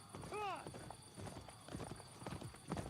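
A video game horse that was stolen, its hooves clip-clopping quickly and steadily under people's chatter, with a short whinny-like call near the start.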